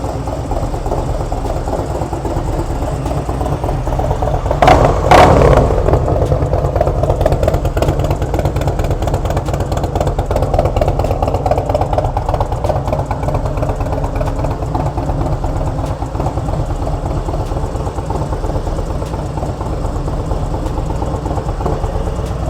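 A 2021 Harley Davidson Road Glide motorcycle idles with a loud, steady, throbbing rumble up close, a brief sharper burst of noise near the start, then the even lope continues alone without talk.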